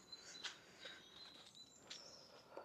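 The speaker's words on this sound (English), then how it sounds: "hear the birds chirping." Birds chirp in short, faint, scattered calls in an outdoor setting on a nice summer day among old walls, several brief high tweets spread over a few seconds with no talking.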